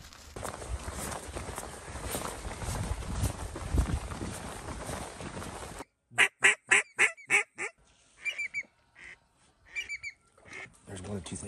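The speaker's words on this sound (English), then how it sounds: "Either someone just walked in another pond and just kicked up a pile of birds" A flock of ducks flushed from a pond on a duck hunt: a noisy rush of wings and water first, then a series of loud, rhythmic honks and quacks nearby, fading into scattered calls.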